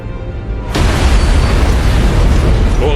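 A loud antimatter charge blast aboard a ship in the Halo video game erupts suddenly, a sharp broadband boom followed by a sustained roaring rumble that fills the rest of the moment.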